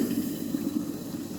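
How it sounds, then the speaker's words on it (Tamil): Boiling water is poured over washed rice ada flakes for ada pradhaman payasam, making a continuous, gently gurgling pour at moderate volume with no voices. "இதில் நல்லா கொதிக்கிற தண்ணியை விட்டு"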